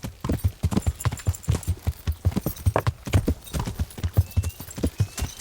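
Horse hooves clip-clopping at a steady trot in the medieval game Kingdom Come: Deliverance, a rapid, even rhythm of close, clear hoofbeats that continues throughout with no talk over it.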